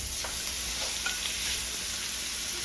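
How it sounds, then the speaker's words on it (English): Lamb shoulder sizzles steadily in hot butter, a continuous close crackle with no talking. "Y'all hear that sizzle? That's what you want to hear."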